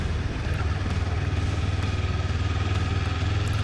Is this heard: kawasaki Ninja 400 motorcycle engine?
yes